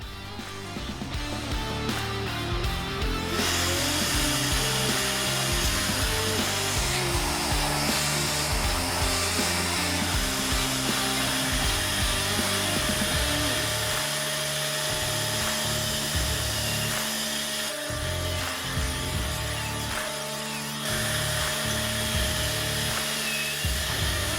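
A power drill whines steadily and loudly for a long stretch, drilling pocket holes through a jig, its pitch shifting slightly as it bores through wood, with brief pauses.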